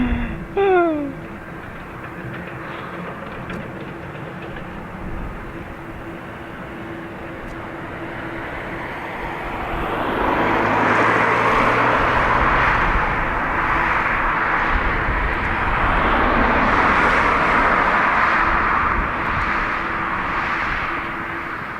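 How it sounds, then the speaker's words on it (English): A plane taking off from runway 28 right at Dublin Airport, with jet engine noise rising into a loud sustained roar about halfway through and holding steady. A faint tone and a brief bump come first. "Runway 28 right, takeoff, bye-bye."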